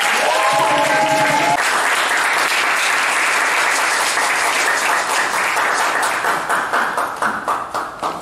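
A church congregation applauds its new pastor, loud sustained clapping from a large crowd with a brief musical ping at the start, fading out toward the end.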